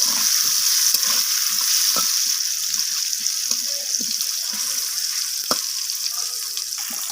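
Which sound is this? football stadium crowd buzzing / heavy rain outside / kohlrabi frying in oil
kohlrabi frying in oil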